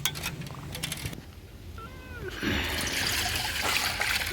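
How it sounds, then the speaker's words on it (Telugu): Flattened rice flakes (atukulu) are washed by hand in a bowl of water, giving sloshing, trickling and splashing up close. A brief squeaky bird- or cat-like chirp is heard before the louder swish of the water resumes. "మూడు సార్లు బాగా నీట్గా కడుక్కోవాలన్నమాట అటుకులు"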